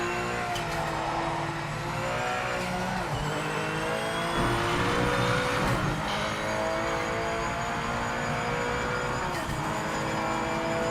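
Race car engine in the Project Motor Racing video game, revving loudly and continuously with rising and falling gear-shift sweeps and occasional tire squeal, no talking.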